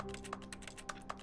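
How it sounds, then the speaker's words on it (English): Keys on a keyboard clack quickly and softly in The Stanley Parable, a rapid, even run of taps with no talk over them. "What am I typing on?"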